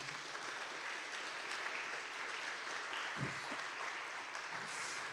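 Congregation applause in a church service, a steady wash of clapping filling the room throughout without pause, fairly even in loudness, with a brief low voice or shout breaking through partway.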